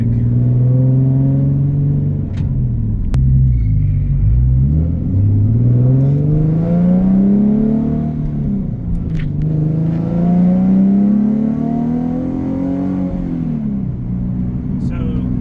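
A Nissan 370Z engine revs at open throttle in a series of rising and falling sweeps, loud and close, its low drone climbing and dropping several times over a steady rumble.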